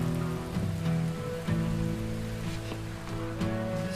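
Heavy, pounding rain falls in a dense, continuous wash at the approach to an airfield, loud and steady with scattered drops striking near surfaces.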